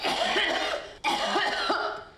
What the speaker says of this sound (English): That sounds like an infected cough to me